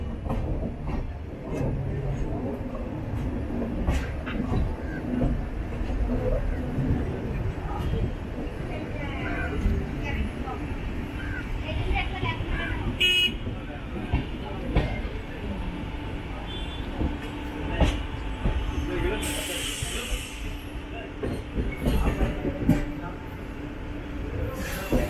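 The Antyodaya Express rolls into Nagercoil Junction station with a steady rumble and clatter of wheels, plus occasional squeals and creaks from the carriage, while someone talks over it throughout.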